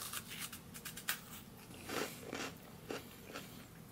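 Dry freeze-dried pork chow mein from a 1993 MRE being bitten and crunched, a run of crisp, brittle crunches with clusters of louder bites, close up and fairly quiet, with no talking.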